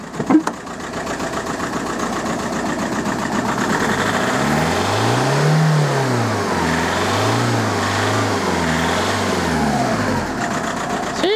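A Volkswagen Golf Mk4 engine with a misfire and rocky idle revs up and down several times in rising and falling surges, loud and close, with no one talking.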